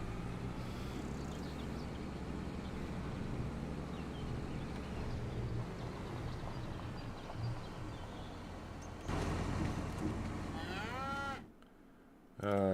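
Cattle moo repeatedly in the farming game Farming Simulator 25, with long, drawn-out lowing calls over a steady rural background. The sound cuts to near silence near the end.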